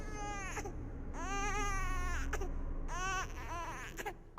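An infant cries in several long, wavering wails with short breaths between them, loud and close. No one speaks.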